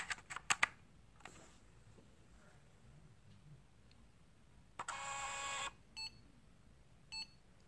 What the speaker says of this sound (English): You'll enter the amount and hit the green key.